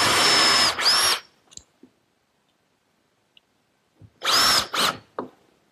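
A power drill drives screws through 3/4 inch CDX plywood into 2x4s in a woodworking shop: two loud, short bursts of high whirring, each about a second long, separated by a few seconds of near silence.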